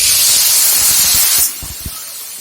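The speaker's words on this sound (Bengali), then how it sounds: "দিয়ে দিচ্ছি জল।" Turmeric water poured into a hot pan of fish curry with potatoes and tomatoes, a loud steady spraying hiss that suddenly drops to a quieter simmer with a few soft bubbling pops.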